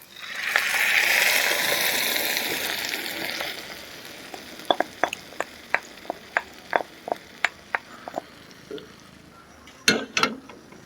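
Cooked dal being stirred into drumstick leaves in a pan for a Kerala dal curry: a steady wet sizzle and stir fades into a run of sharp, evenly spaced spoon taps against the pan, with two louder clatters near the end.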